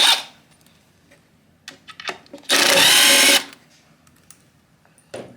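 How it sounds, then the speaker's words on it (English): A power drill runs in one sustained burst of roughly a second, backing screws out of a wooden drawer front, loud and close, with a few quieter clicks and handling knocks before and after. "So now we can go ahead and remove the screws."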